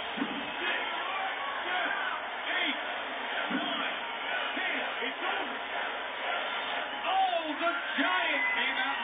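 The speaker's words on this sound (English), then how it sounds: "hear the crowd going crazy after that knockout" Crowd roaring and whooping after a knockout in the boxing video game Fight Night Round 3, a dense, steady wall of cheering with scattered shouts and whistles rising throughout.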